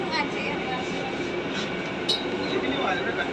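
A Mumbai metro train rolls along with a steady rumble and hiss of the carriage, with faint clinks and muffled voices in the background.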